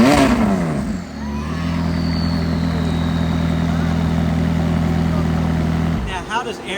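McLaren 600LT engine revving at a car show, a deep steady idle-like drone held loud and close for several seconds between sharper rev bursts at start and end, with a voice talking over it.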